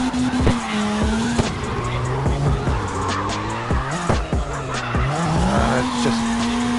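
Car tires skidding and squealing under hand braking in the CarX racing game, with a steady engine drone whose pitch sweeps up and down through several long slides, loud and continuous.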